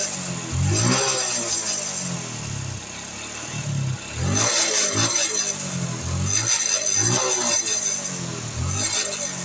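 Honda Revo Fit fuel-injected motorcycle with a clogged fuel flow, its engine revved repeatedly in rising and falling surges, loud and close, with a rough, uneven tone between throttle blips.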